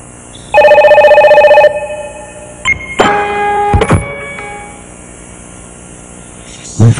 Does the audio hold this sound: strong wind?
no